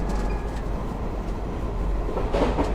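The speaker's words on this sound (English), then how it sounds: "will practice a gradual speed up and slow down of the train" A train runs on rails during driver training for gradual speeding up and slowing down, a steady loud rumbling roll with faint rhythmic clatter throughout.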